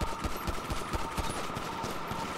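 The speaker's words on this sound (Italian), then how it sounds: "Ma perché mi spari?" Rapid gunfire from the game GTA RP rattles out in quick bursts of sharp shots, a fairly faint, continuous volley with no voices.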